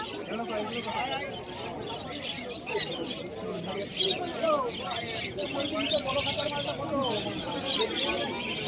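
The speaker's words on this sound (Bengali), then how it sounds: "সমীরদার খাঁচায় কিন্তু খুব ভালো ভালো পায়রা থাকে প্রতি হাটেই" Caged pigeons coo and chirp at the Birnagar market, a busy layered mix of bird calls with steady crowd chatter and people talking throughout.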